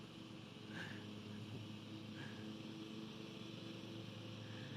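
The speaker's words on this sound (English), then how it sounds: "He's got a lot of grass to mow." A neighbor's lawn mower cuts grass next door, a steady mid-distance engine drone that runs without a break, with a dog trainer's yard around it.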